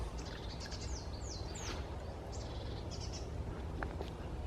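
Several birds chirp and whistle in a Scots pine wood, with short rising and falling calls scattered across the stretch over a steady low outdoor rumble, moderately distant and fairly faint.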